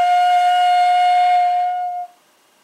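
A hitoyogiri, the Japanese end-blown bamboo flute, sounds one clear sustained note with the finger holes closed, steady and close for about two seconds before it stops abruptly and leaves near silence.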